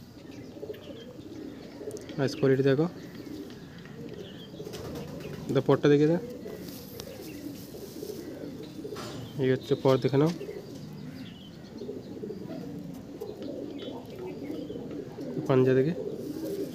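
Madras pigeons of the Kolkata line coo in a loft, low rolling calls recurring every few seconds beneath a voice talking throughout.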